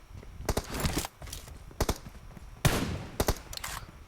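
Rapid bursts of automatic gunfire from the video game PUBG Mobile, several sharp volleys and single shots spread across the span, loud and close with brief gaps between them.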